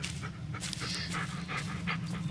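A dog in the Blair Witch video game pants rapidly and continuously nearby, with breathy rhythmic huffs throughout and no talking.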